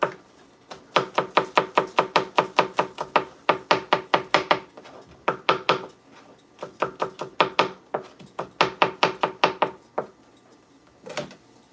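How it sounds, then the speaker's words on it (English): A knife chops garlic and ginger on a board in a home kitchen, fast steady taps in long runs broken by short pauses, close and crisp with no talk. "So I'll just cut the garlic and ginger."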